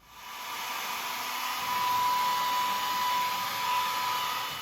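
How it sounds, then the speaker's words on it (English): A handheld blow dryer drying a layer of acrylic paint on a pumpkin painting whirs with a steady, loud airy roar and a faint high motor whine, running continuously and alone after a quick start. "I'm going to hit it with a blow dryer and get it to dry very quickly."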